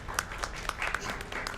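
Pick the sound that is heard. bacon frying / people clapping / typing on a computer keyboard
people clapping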